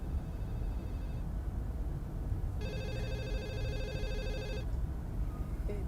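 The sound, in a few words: telephone ringing for incoming call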